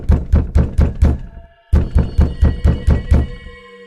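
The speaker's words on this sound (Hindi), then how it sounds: "फिर वो औरत बहुत जोर जोर से घर का दरवाजा खटखटाने लगती है।" Loud, heavy knocking on a house door in a cartoon: two bursts of rapid, booming thumps, about six blows each, split by a short pause, with a faint ringing tail after the last knock.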